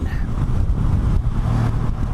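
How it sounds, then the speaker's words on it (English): Steady low rumble of a 2022 Honda CB500X motorcycle engine idling nearby, continuous and even throughout with no speech. "motorcycle, nice engine."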